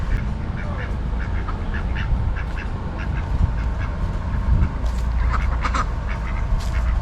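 Scattered duck quacks ring out over a steady, noisy outdoor background in a historic village in Metamora, Indiana, several calls clustering toward the end.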